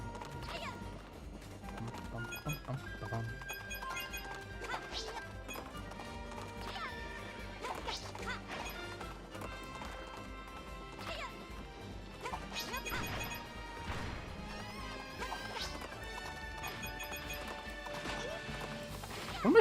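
Horses gallop in the video game Princess Peach: Showtime!, with steady clip-clop hooves, whinnies and crashing impacts layered over busy game music, no voices.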